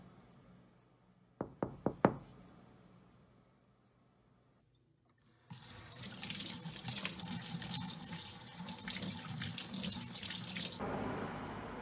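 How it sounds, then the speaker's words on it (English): Three or four sharp knocks on a door, followed after a quiet pause by a tap turning on and water running steadily into a sink for several seconds before stopping. "the watch is giving feedback about ambient sounds that are occurring, like the water running, door knocking"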